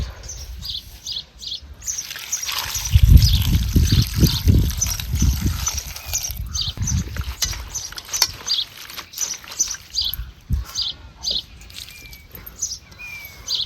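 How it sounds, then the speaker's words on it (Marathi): Leafy vegetables rinsed by hand in a metal basin give a burst of splashing and sloshing water, then lighter dribbles and trickles, while small birds chirp faintly outdoors. "त्याच घमेल्यात आपल्याला परत भाजी धुवून घ्यायची."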